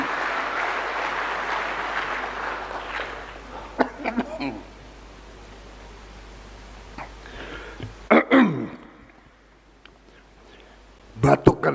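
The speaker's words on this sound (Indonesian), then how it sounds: "Batuk karena semangat." A man coughs a few times in short bursts while giving a speech at a school event, with crowd reaction and some talk around the coughs.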